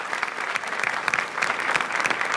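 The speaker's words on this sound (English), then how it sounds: "Please welcome with a warm applause" Steady applause from a crowd at a 2009 event in Orizaba, Veracruz, Mexico, dense clapping sustained throughout at an even, fairly loud level with no voices standing out.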